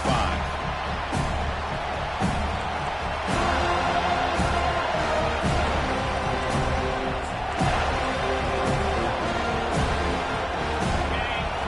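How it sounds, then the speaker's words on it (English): A dense, roaring stadium crowd at an FSU vs Miami football game fills the air continuously, with scattered shouts and cheers rising over a constant wall of noise. "Listen to the crowd energy here in the early going."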